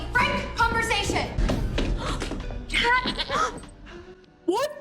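Goat bleating in the TV show Scream Queens, several wavering bleats heard among talk and background sounds, with a loud final bleat near the end.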